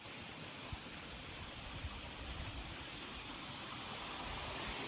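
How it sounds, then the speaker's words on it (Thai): Continuous rushing water, steady and even like a waterfall nearby, with no breaks or voices. "ถ้าบางทีเสียงน้ำตกเสียงดังก็ขออภัยพี่นะทุกคน"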